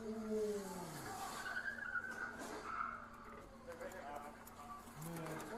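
Car tires skid and squeal in an accident, several long screeching sweeps rising and falling over a few seconds, fairly faint, with voices talking over them.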